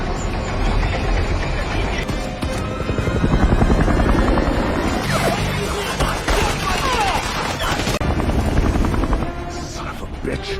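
A loud helicopter roars throughout amid a dense, chaotic film soundtrack with bursts of gunfire and heavy rumbling.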